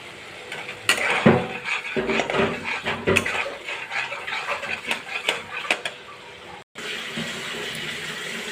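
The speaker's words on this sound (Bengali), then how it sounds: "ভালো করে মশলাটা কষে নেবো যতক্ষণ তেল ছাড়ে মশলা থেকে" Spice paste with chilli powder, turmeric and a little sugar fries in oil in a pan, a dense hissing sizzle broken by repeated close scrapes of a stirring spoon, pausing briefly before the frying noise resumes.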